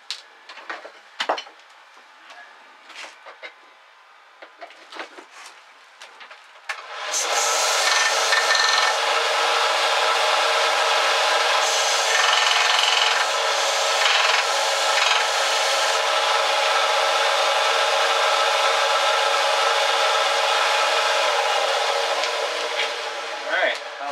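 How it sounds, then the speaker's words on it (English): A knife part is squared up against a sander: after several seconds of light scattered taps and handling noises, a steady loud abrasive grinding starts and runs continuously for over fifteen seconds before easing off. "let's get that squared up on the sander"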